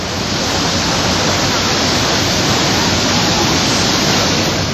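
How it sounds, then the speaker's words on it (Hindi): Floodwater rushes through the streets of Vidisha after three days of heavy rain, a loud, dense, unbroken roar of flowing water filling the whole span with no pauses. "विदिशा में 3 दिनों से हो रही बारिश के चलते सड़कों पर सैलाब बह रहा है।"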